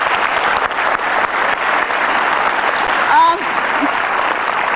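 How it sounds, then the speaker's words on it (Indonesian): Studio audience applauds steadily throughout at a televised Indonesian political talk show, a dense, sustained clapping with a brief voice rising over it near the end. "Kita kasih tepuk tangan."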